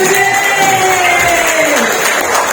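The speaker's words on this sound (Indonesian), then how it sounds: "Yang beri tepuk tangan buat mereka." Audience at a Bethany Kidz Christmas celebration cheers and applauds for Sunday school children, a dense, steady crowd roar with whoops and claps filling the whole stretch at close range.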